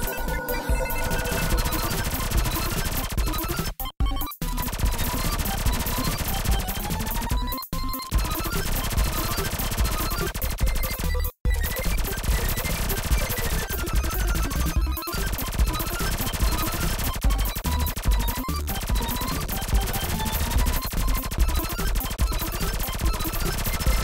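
Laser gun in a space shooter game firing nonstop, a dense loud barrage of rapid zapping shots over busy game music, with brief pauses for reloading.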